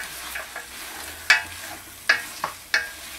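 Several sharp scraping clatters of a utensil stirring rabbit and vegetables in a frying pan, irregularly spaced, over a faint steady sizzle.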